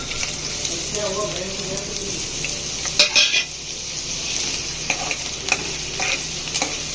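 Onion sautés in oil in a pan as the start of a mutton curry: a constant close hiss and sizzle, broken by a brief burst of metal spoon clatter near the middle and lighter scrapes later.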